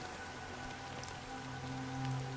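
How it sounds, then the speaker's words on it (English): Rain falls steadily on surfaces in the video game Honkai Star Rail, a soft, even patter that goes on for the whole short stretch with faint background tones and no speech. "it's still raining."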